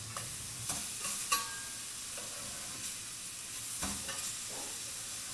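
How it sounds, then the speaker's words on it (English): Burgers cook in a covered pan over low heat, giving a faint, even sizzle with a few soft clicks and pops scattered throughout. "remove the lid and flip the burgers"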